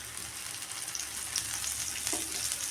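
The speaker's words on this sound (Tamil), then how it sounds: "இந்த 3 பீசஸில் நீங்கள் நிறைய ஆயில் சேர்த்து ஃப்ரை பண்ணி எடுத்துக்கோங்க" Pieces of elephant yam shallow-frying in plenty of oil, a continuous close crackling sizzle with a brief clink and scrape of the pieces being turned near the end, and nobody speaking.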